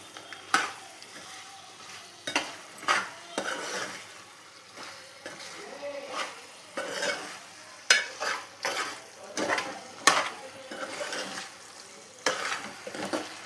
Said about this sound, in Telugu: ఇది కూడా వేసుకుని మంచిగా ముక్కలకి పట్టేటట్టు కలుపుకోవాలి